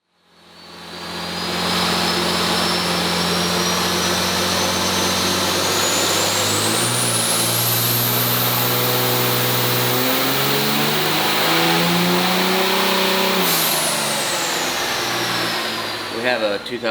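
A 2005 manual diesel truck strains on a dyno, its engine climbing steadily in a long, loud full-throttle pull before dropping off near the end.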